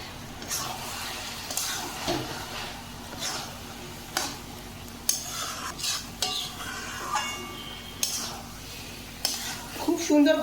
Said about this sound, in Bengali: এবার এগুলো সবটা আমি ভালো করে মিশিয়ে নেবো